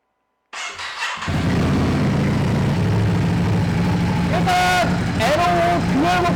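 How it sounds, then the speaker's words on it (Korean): A 2019 Ducati Scrambler 1100 Sport motorcycle fires up and settles into a loud, throbbing exhaust idle, with a few sharp throttle blips near the end. "머플러의 배기 사운드 한번 들어보고요"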